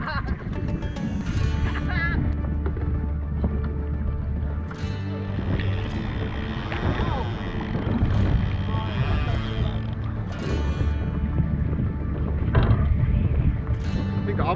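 A fishing reel's drag screams and creaks steadily as a Garrick runs with the line during a saltwater boat trip, with voices talking over it.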